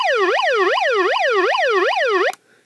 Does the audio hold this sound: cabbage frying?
no